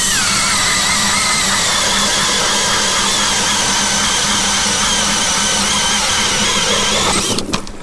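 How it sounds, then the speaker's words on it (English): A Jiffy ice auger fitted with a ripper blade drills through first ice, a loud, steady engine drone with whining squeal that runs for several seconds before breaking up into a short clatter at the end. "I'm letting that ripper blade that's on there just claw through that ice."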